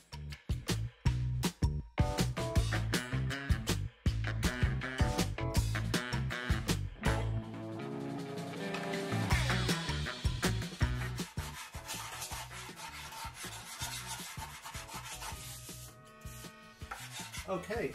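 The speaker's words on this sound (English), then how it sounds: "The sanding has begun on the hull itself now to get it nice and smooth." Steady, loud abrasive rubbing close by, hand sanding a model ship hull of the Endeavour in rapid back-and-forth strokes with occasional knocks and taps, continuing throughout without speech.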